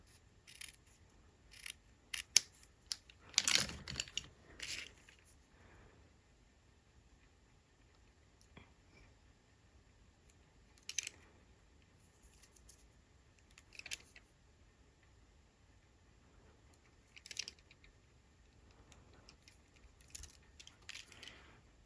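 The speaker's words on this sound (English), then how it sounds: "take my scissors and cut this one in half" Paper being cut in half with craft scissors while making a Halloween card, heard as a few sharp snipping bursts near the start, followed by sparse quiet handling rustles.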